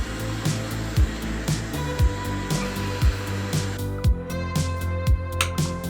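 A hot air rework station blows at full airflow with the heat turned up while repairing a faulty A500 Mini, a steady loud whooshing hiss interrupted by regular low knocks roughly once per second.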